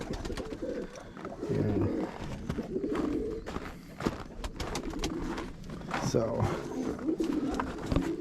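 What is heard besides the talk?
roller pigeons cooing in a loft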